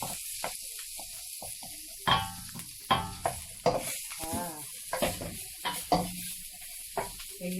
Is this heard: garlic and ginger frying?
yes